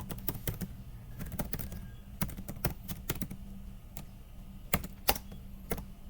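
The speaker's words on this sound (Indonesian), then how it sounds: "Kita ketik aja" Computer keyboard typing while configuring a DNS server on Ubuntu Linux, steady close key clicks in quick irregular runs, a few sharper louder strikes, no voices heard.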